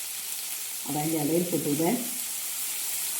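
Onion and curry leaves sautéing in a pan for a homestyle green peas curry, giving a continuous soft frying hiss. A voice speaks briefly over it in the middle.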